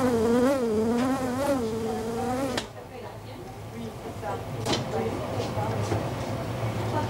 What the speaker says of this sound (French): Une mouche, bleue, hein, qui se promenait sur mon main.